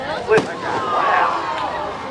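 Fireworks explode over Archerfield Speedway during a night display: one sharp bang followed by a whistling, crackling burst, with a crowd murmuring and speaking in the background.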